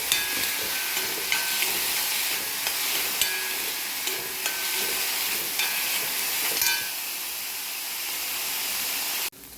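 Sliced onions with a spoonful of salt sautéing in a pan for cauliflower sabji, giving a continuous bright sizzle with occasional stirring clinks, close and steady until it cuts off near the end.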